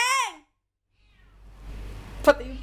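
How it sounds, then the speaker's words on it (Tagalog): An angry cat gives a single loud, drawn-out meow with a rising and falling pitch, followed by quiet background rustling and a brief sharp knock. "Pati yung pusa namin galit na."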